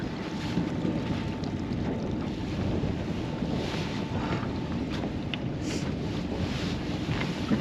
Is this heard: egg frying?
no